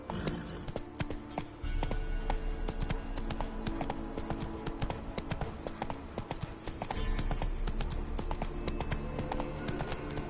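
Hooves clip-clop in a fast, continuous galloping rhythm as a horse runs in the video game Witcher 3: Wild Hunt, loud and close with a steady low rumble beneath, with no talking.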